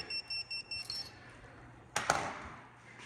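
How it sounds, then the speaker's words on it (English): Five short, high electronic beeps in a quick regular series, followed by a sharp clattering knock after a pause. "Now it's beeping."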